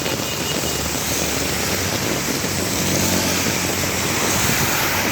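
Vehicles rush past at speed near Green Hill in heavy rain, a dense continuous roar of tyres on wet road and engine noise swelling slightly louder in the second half.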